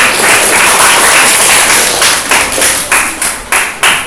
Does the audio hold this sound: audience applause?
yes